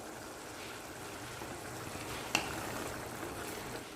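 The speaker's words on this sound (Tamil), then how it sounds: "மட்டன் நல்லா கொதிச்சுக்கிட்டு இருக்கு" Mutton pepper fry simmering in a pan, its water cooking off: a steady, quiet bubbling hiss throughout, with one brief sharper pop near the middle.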